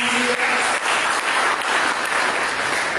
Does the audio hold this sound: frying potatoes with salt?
no